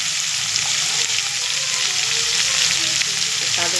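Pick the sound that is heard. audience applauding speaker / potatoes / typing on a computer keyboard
potatoes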